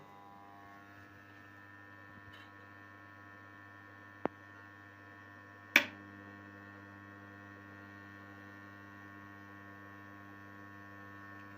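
An EGS 002 low-frequency inverter board gives off a steady, quiet electrical hum with layered tones once switched on, broken by a sharp click and a brief louder crackle partway through.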